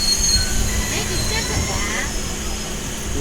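A train moves fast along the rails, giving a steady rumble and roar with a faint metallic squeal of the wheels, heard close up from on board. A voice can be heard talking.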